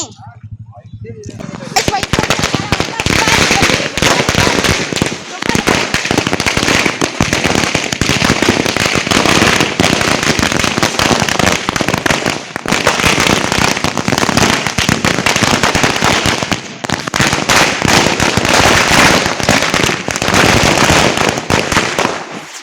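Firecrackers burst in a long, unbroken crackling string, loud and close, with dense rapid pops running for about twenty seconds.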